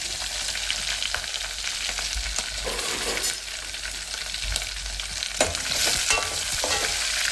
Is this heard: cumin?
yes